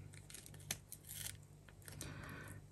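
Scissors snipping paper during a craft session for a junk journal tag, with a few quiet, close cuts and light rustling.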